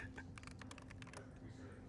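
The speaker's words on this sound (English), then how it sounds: "We're gonna listen to the keyboard type because it's so good." A computer keyboard at an AI PC demo at CES 2026 clatters in a fast run of crisp keystrokes, faint beneath a hum of crowd noise with voices in the background.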